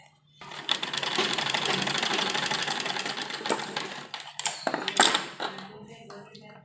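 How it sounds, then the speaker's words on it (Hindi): A sewing machine stitches fabric for a pleated frock in a steady run of rapid, close mechanical whirring, then breaks into a few short clattering bursts as it stops. "यहाँ पर हम सिलाई लगाएंगे"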